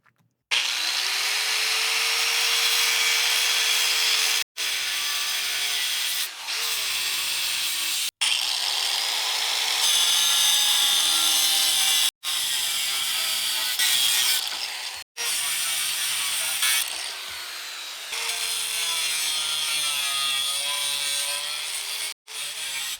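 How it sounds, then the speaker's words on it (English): A Makita angle grinder cutting old tractor loader steel: a loud, continuous high whine and grinding screech close to the microphone, broken by several brief pauses where the tool stops and starts again. "This is actually the first time I've put one of these Makita grinders to work, and it's performing great."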